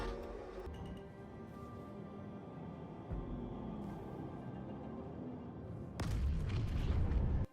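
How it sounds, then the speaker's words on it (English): Small bomb explosion from a Crusader Mercury Star Runner dropping size 3 bombs in the game Star Citizen: a long quiet low hum, then a sudden muffled boom with a rumbling tail near the end. "Very small explosion."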